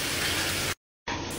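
Water gushes into a cooking pot of Bahraini fish machboos with onions, a broad steady hiss that cuts off abruptly, then resumes after a short silence.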